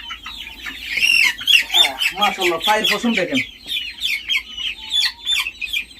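A flock of Brahma chickens clucks and squawks continuously, close and busy, while someone talks over them.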